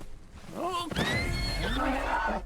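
A horse in the video game Red Dead Redemption 2 gives a loud whinnying neigh, rising and wavering over about two seconds, close and clear, with a little speech nearby.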